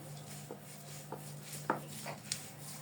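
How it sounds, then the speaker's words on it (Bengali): Boiled chickpea lentils ground by hand on a grinding stone, giving soft scraping rubs and a few light knocks of stone on stone at an uneven pace, close and quiet with no talk. "এরকমভাবে আমি বেটে নিব সবগুলো ডাল"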